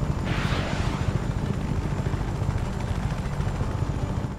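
A helicopter in the open-world action video game Just Cause 3 gives off a steady, dense rotor roar with a throbbing low rumble, loud and continuous, with no voices over it.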